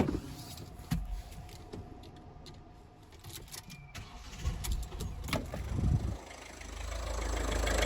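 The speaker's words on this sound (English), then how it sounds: "So if I just have the engine running, you'll see what I mean." Ford Transit Connect 1.5L diesel engine idling steadily with a low continuous rumble, with a few clicks and clunks over it and the engine note rising toward the end.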